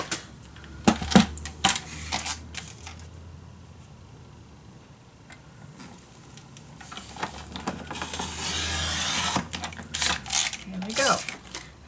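Paper being cut for a handmade scrapbook folio, with crisp snipping and sliding strokes in short bursts and a denser stretch of cutting near the end, close by, alternating with someone talking.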